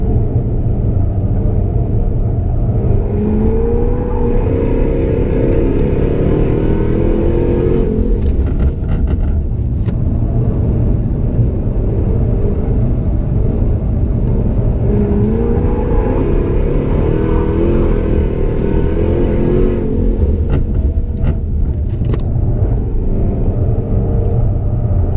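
A Jaguar F-Type R lapping a figure-eight course, its engine droning loudly and continuously, pitch climbing and dropping twice as it accelerates and eases off, with no voices.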